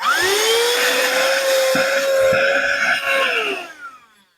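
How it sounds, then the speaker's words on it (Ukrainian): A small handheld vacuum cleaner with a Type-C port whirs at a steady high pitch for about three seconds, then winds down and falls quiet. "Сьогодні потрапив до мене на ремонт ось такий маленький пилосос."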